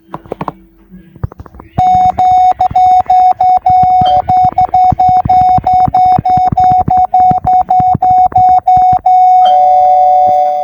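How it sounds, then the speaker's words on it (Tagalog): A video-game doorbell on a decorated house rings with a sustained electronic chime, loud and continuous for several seconds with rapid clicking pulses running through it. "Mag-doorbell tayo guys."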